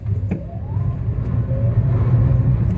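A 2013 Fiat 500 accelerating hard from a standstill toward 60, its engine a steady low rumble with a faint rising whine as it pulls, heard close up from inside the car.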